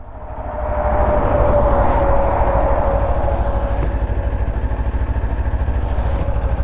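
A 2019 Kawasaki Ninja 400 being ridden, its engine droning steadily and loudly with a constant buzzing tone and wind rush, building over the first second and then holding even throughout, with no voices.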